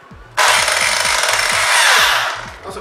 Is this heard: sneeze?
no